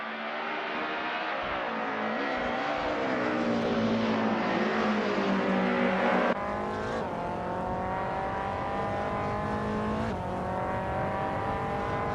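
A 2014 BMW M235 race car in iRacing at Donington Park, engine droning loud and close through a long continuous run, pitch rising and falling through the gears with a sharp shift midway, no voices.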